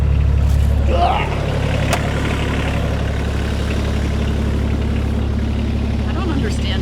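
A Kioti CS2530 compact tractor idles in neutral and park, its low steady engine rumble running throughout while a person talks over it near the start.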